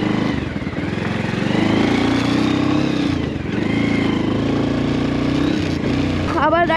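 Bajaj Avenger 160 motorcycle pulling away at the start of a ride, a steady mid-pitched engine drone with a small rev change midway, close and loud, while someone talks over it.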